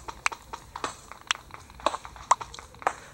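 Horse hooves clip-clopping in the Minecraft video game, a quick run of sharp, bright hoof clops in an uneven trotting rhythm, close and distinct with no talk over them.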